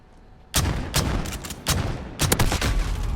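R9-0 shotgun firing slugs in Modern Warfare, a string of loud, sharp booming blasts with reverberant tails, about six shots at uneven intervals, the last ones coming in a quicker cluster.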